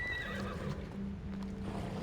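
Horse neighing in the video game Assassin's Creed Odyssey, a single close, loud whinny with a low steady drone beneath it.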